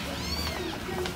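A cat meows inside a pet shop, a couple of short rising calls heard moderately close over a steady indoor background hum.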